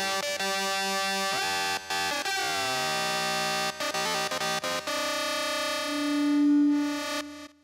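A gritty, metallic synthesizer tone, loud and buzzing with distortion, its pitch sliding and chopping into stuttering bursts before a bright sustained note.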